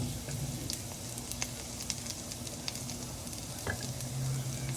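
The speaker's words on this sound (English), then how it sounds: "sauteing the garlic. I already added the oil" Garlic sautéing in a small amount of oil in a pan gives a steady, close sizzle with occasional crackles and pops throughout.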